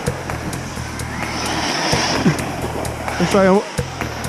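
An ARRMA Mojave EXB RC car with a Hobbywing MAX8 ESC and 2200kv motor runs at half throttle in cold weather, a high electric whine surging and dropping in short bursts, with a brief word spoken and outdoor background.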